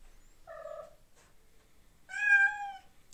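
Cat meowing alone in a quiet room: a short meow, a pause, then a longer, louder drawn-out mournful call, heard close up.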